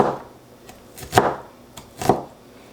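A knife chops food on a cutting board while preparing red beans and rice, with two sharp, firm chops about a second apart and a couple of lighter taps between them in a quiet kitchen.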